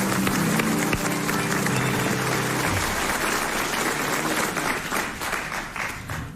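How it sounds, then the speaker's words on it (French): A studio audience at a 1996 French television quiz show applauds, dense sustained clapping filling the room for several seconds and slowly thinning toward the end, with a faint voice underneath. "mérite vos applaudissements"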